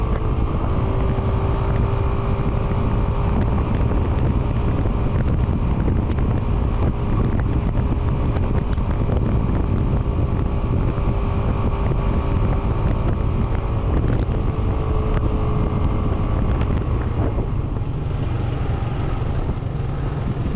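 A Vento Tornado 250 motorcycle ridden on the road, with a steady broadband engine drone and heavy wind rush across the microphone, continuous and loud throughout, no talking.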